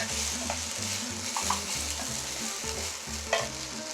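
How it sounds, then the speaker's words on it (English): Rice being lightly fried and stirred in a pan alongside carrots for Mexican rice, with a steady sizzle and repeated scraping stir strokes close by, no talking. "You just want to give it a light fry"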